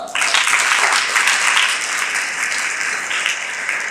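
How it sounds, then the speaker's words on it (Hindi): An audience claps steadily through a live Hindi poetry recitation, a dense, loud wash of hands that holds evenly for a few seconds without a break. "मेरी अंतिम पंक्तियों पे आपकी तालियां चाहूँगा"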